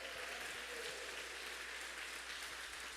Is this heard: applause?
yes